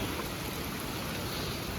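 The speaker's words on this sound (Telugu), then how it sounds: "ఏంటంటే వర్షం అస్సలు తగ్గట్లేదు" Steady rain falls in a forest, making an even, close hiss of drops with no pauses and no voices.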